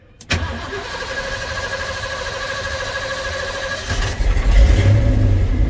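A 1990 Ford F350 pickup engine cold-starts up close: a brief crank catches almost at once, then settles into a loud, steady idle before revving up near the end, with no talking.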